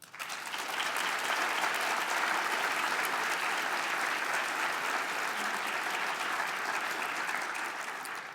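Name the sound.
audience applause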